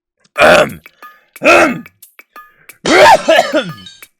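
Three strained, deliberate coughs close to the mic, the last one longer and rougher, with short silences between them.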